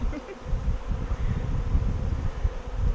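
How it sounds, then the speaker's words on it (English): Bees swarm and buzz at a hive entrance, a dense, fluttering hum with many wingbeats overlapping, close and steady for three seconds with no talk. "you can see a steady march of bees heading in"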